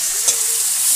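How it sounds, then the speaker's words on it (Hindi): Chopped onions fry in hot oil in a pan, giving a steady, bright, close sizzle that runs without a break for the whole second, with no speech over it. "डाल दी हूँ प्याज को भूनेंगे।"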